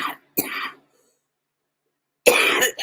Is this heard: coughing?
yes